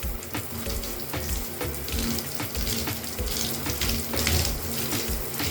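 Water from a tap runs continuously and fairly loudly while cream is rinsed out of hair, with a steady splashing hiss.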